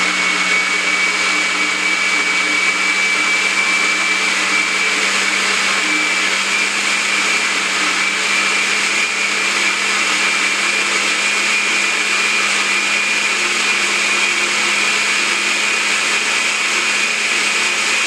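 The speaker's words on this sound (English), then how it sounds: "I feel like my blender is dying." A kitchen blender that seems to be failing runs continuously while blending vegan cheese, giving a loud, steady whirring roar throughout with no talking.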